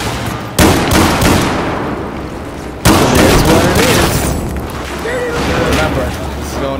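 Two loud grenade explosions in Battlefield 4 go off a couple of seconds apart, each a sharp boom followed by a rumbling tail. Battle noise sits underneath.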